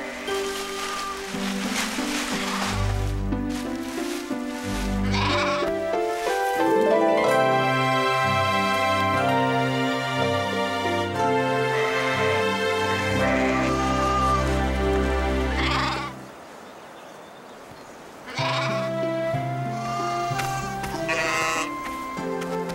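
Sheep bleat repeatedly, loud and close, their calls rising and falling in long wavering cries with short pauses between them.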